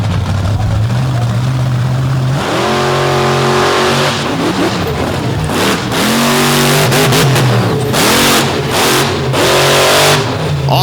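A blower-engined drag racing car roars at the track, its supercharged engine revving hard in a loud, sustained blast with repeated rising and falling pitch sweeps as it launches and pulls away.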